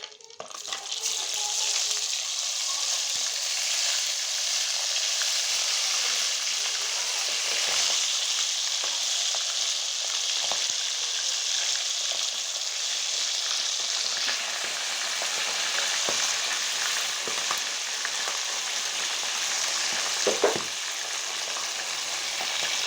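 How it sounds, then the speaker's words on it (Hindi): Chicken pakora fries in hot oil with a continuous, dense sizzle that stays loud and even, broken by a few faint clinks and a brief louder crackle near the end, with no talking. "अब हम करेंगे इनको फ्राई, अपने चिकन पकौड़ा को करने लगे हैं फ्राई।"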